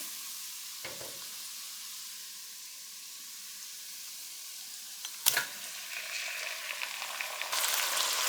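Mutton sizzles in a pan with golden-browned onions, a soft steady frying hiss broken by a few sharp clanks of stirring and a louder crackling surge toward the end.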